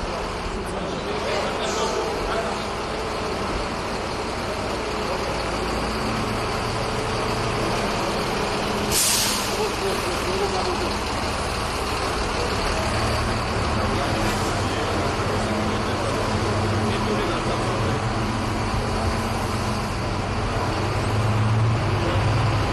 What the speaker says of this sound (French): Félix Antoine Tshisekedi a convié toute sa suite à un tour dans un des bus Transco monté dans cette usine